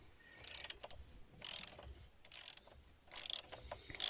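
A nut being worked loose from the front shock absorber of a Peugeot 407, heard as a few short bursts of loud, close metallic ratcheting separated by pauses, with no talking.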